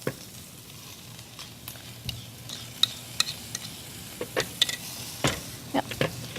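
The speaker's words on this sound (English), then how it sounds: "So we just mix this up with the cabbage." Pork taco filling being stirred together with cabbage, giving soft, scattered scraping and clinking of a utensil against the pan over a quiet sizzle, with faint background noise.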